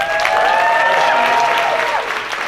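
An audience at the NIAM Gala 2019 applauds with dense, continuous clapping that stays loud and even throughout, with faint tonal sounds underneath.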